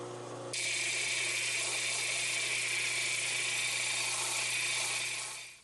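A small high-pitched rotary grinder bites into a green mineral specimen with a pink tinge, a steady shrill whine held for about five seconds before spinning down, close and moderately quiet.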